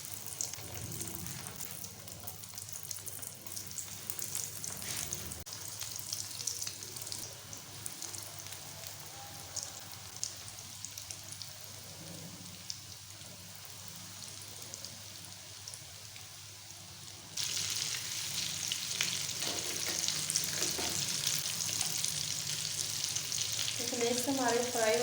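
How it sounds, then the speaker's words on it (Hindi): Chicken and chana dal snacks frying in hot oil, a continuous close crackling sizzle that turns louder and brighter partway through as more pieces hit the oil, with no talking. "स्नैक्स हमारे फ्राई होना शुरू हो गया"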